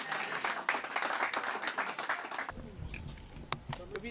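A church congregation applauding the Lord at the close of a service: dense, lively clapping that stops abruptly, followed by a quieter room with scattered sounds.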